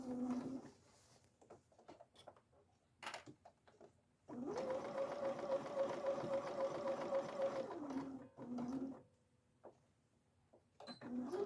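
A sewing machine runs a steady, fast stitching whir for about three and a half seconds while hemming a fabric sink skirt, then a brief burst for a back stitch, with short bursts of handling noise around it.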